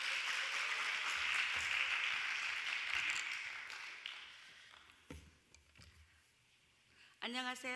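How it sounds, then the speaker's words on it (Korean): A church congregation applauds at a Friday late-night prayer service: dense, broad clapping fills the room, then thins and fades, and a voice starts speaking near the end. "오늘 박수 다시 한번 해주세요"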